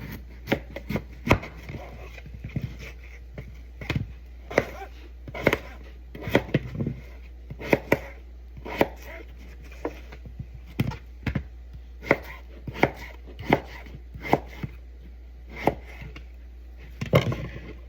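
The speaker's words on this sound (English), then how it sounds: "you'll cut each of them and put them into the boiling water" A knife chops through potatoes on a cutting board: sharp, close strikes in an uneven rhythm, with short pauses between bursts, over a faint hum.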